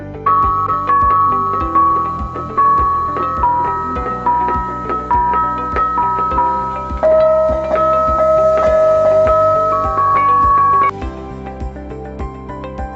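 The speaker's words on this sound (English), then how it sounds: "Bonam, set of bronze bowls." Bonang, a set of bronze bowls in a gamelan, struck in a busy, continuous melodic pattern of resonant gong-like tones with long ringing decays, close and loud, without speech.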